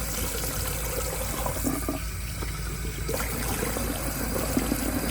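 Steady water spray from a hose held close to the scalp, rinsing hair at a sink, a continuous near rushing wash that holds level throughout with small splashy shifts.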